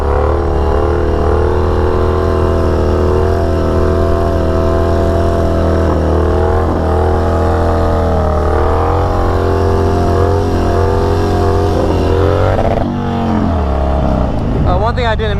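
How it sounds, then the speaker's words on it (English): A Harley-Davidson Dyna motorcycle revving hard and holding high revs against the rev limiter, a loud, dense, continuous engine roar with wavering pitch, then a sharp dip and climb near the end. "you do want a rev limiter. That way you can really bounce it off the rev limiter, hear that when you're riding"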